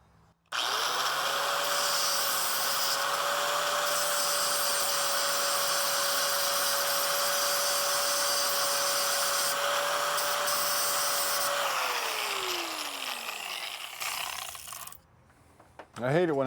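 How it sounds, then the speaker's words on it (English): A power grinder whirs steadily for about eleven seconds while smoothing an old brake line fitting on a GMC Jimmy, then winds down, followed by a short clatter. "We're just going to grind it smooth, punch that out"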